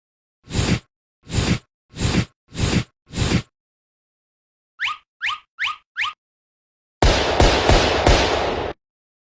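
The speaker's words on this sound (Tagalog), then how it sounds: "Sino ba nagpalipad ng paputok dito, ha?" Firecrackers go off at New Year: five sharp evenly spaced bangs, then four quick whistling pops, then a dense crackling burst of rapid explosions lasting under two seconds, loud and close with silence between groups.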